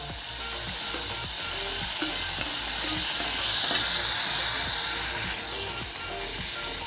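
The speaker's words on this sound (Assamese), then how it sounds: "মই পেনখন গৰম হ'বলৈ দি এতিয়া বিলাহীখিনি দি দিছোঁ।" Tomatoes sizzle in a hot pan for chicken butter masala, a dense steady hiss with soft scraping and stirring taps throughout, close and fairly loud, no talking.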